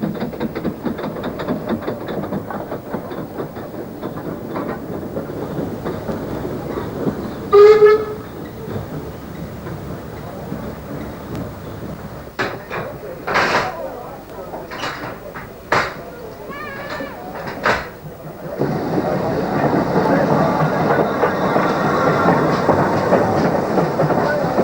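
A GWR 14XX class steam locomotive visiting from Didcot runs at a heritage railway, with steady rolling rail noise, a brief whistle and a few sharp bursts partway through, then a louder steady rush near the end.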